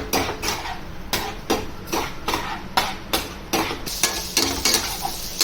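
A spoon scrapes through a pan of fish fry mixed with head brain in a steady rhythm of about a dozen close, clattering strokes against the metal, with faint frying beneath.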